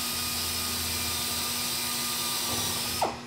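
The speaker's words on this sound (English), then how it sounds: "I'm going to drill my two holes." A steady, close power drill whirs continuously through sheet metal resting on a 2x4, then cuts off abruptly at the end.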